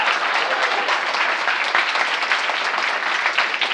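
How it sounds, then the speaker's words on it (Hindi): A church congregation claps loudly for the Lord during a worship service, dense, close applause that carries on steadily the whole time. "जोर से प्रभु के लिए ताली बजा दीजिए"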